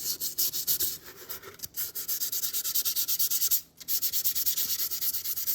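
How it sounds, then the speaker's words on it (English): Close, rapid back-and-forth scraping of sandpaper on 3D-printed PLA plastic, a steady rhythmic rasp with two short pauses, no talking. "you can hear the sandpaper rubbing"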